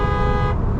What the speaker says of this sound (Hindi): हॉर्न तो काफ़ी अंदर भी सुनाई देता है